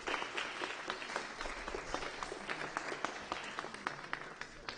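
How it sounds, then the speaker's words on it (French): A student debate audience applauds at the end of a question session, a steady burst of many hands clapping with distinct individual claps, fairly close and continuous, no talking over it. "Donc vous pouvez les applaudir,"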